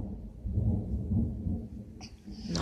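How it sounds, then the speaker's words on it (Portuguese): Thunder rumbles low and steady at moderate distance, a continuous deep roll lasting a couple of seconds with a faint higher noise near the end and no talk. "Olha o trovão."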